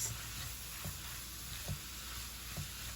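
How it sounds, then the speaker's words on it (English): Chopped trinity vegetables sauté in a pan for crawfish étouffée, giving a soft, steady sizzle with occasional light stirring scrapes, faint and close, with no talk. "you just want to saute this for about 7 minutes"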